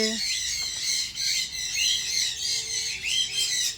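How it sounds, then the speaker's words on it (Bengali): Repeated shrill, high squawks from a lutino cockatiel at a bird farm come in rapid pulses, loud and close, with other bird calls faint behind. "ওই দেখুন লুটিনো ককটেল আছে"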